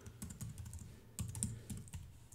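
A password is typed on a computer keyboard, a quick run of soft, close key clicks in an uneven rhythm in a quiet room.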